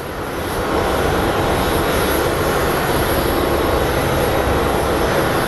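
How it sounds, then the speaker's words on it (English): A jet airliner roars at Phoenix Sky Harbor International Airport, the engine noise rising quickly and then holding as a loud, broad, steady rumble close by. "Our first plane might be one coming from Dallas"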